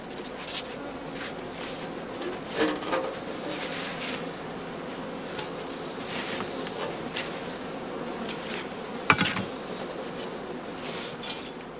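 Honey bees buzz around straw skep hives as sugar solution is poured in for feeding, a steady low drone of many insects with scattered louder passes close by and one sharp knock near the end.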